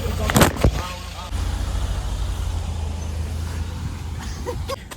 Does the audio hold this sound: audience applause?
no